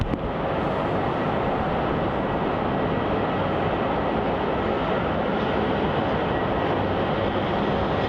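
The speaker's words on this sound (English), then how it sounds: "Our next departure is the Rex Saab 340A off to King Island." Rex Saab 340A turboprop departing Melbourne Airport, a loud continuous broadband engine roar holding steady throughout, heard from the ground without a break.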